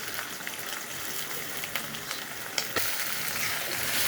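Ground spices with garlic and ginger paste, bay leaf and salt sautéing in oil for a beef and liver curry, a steady close sizzle and crackle with occasional stirring scrapes, no voices.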